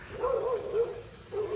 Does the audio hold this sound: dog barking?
yes